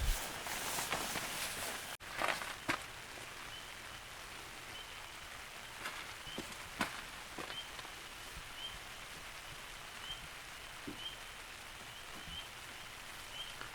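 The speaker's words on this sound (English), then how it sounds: "That's just water dripping." Water dripping onto a rain shelter set up for car camping, with soft scattered drops and taps over a steady faint patter of rain, close and quiet, plus a few louder knocks early on.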